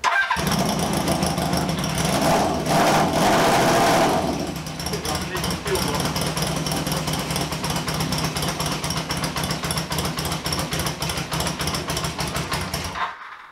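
A 1978 café scrambler motorcycle engine cranks over with the fuel switched off, a loud, rapid, rhythmic chugging that weakens slightly after a few seconds and keeps churning without catching, close up, with voices heard over it.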